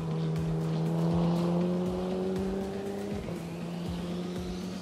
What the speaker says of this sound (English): A bunch of Porsche rounding the bend.